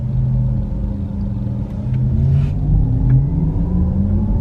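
A Porsche Taycan electric car plays its artificial driving sound, a steady low humming rumble with a faint rising synthetic tone layered over road noise, sustained throughout.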